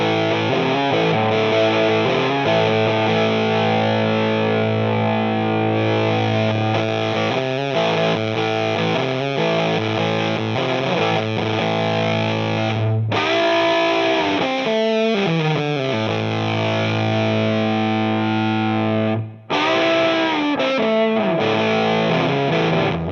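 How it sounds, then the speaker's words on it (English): Loud, heavily distorted electric guitar through a Rusty Fuzz pedal playing continuously, the tone shifting from gritty overdrive to a sputtering, saturated fuzz, with a brief cut near the end. "you'll hear it go from a little bit of an overdrivey sound to kind of that sputtering, loud,"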